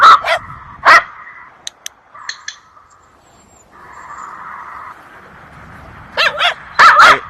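Dogs bark in short loud bursts at a dog training session, a few sharp yips early on, then a quieter stretch with a steady tone before several close barks and whimpers return at the end.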